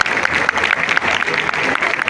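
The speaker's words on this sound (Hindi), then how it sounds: "अगर दो बंदे ताली बजा रहे हैं" A small group in a classroom claps steadily, the quick, close hand claps overlapping into a continuous patter for a couple of seconds.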